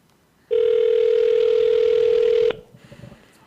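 A telephone call ringing out during a radio show: one long, loud, steady ring tone lasting about two seconds, then it cuts off, leaving a quieter line with faint background noise.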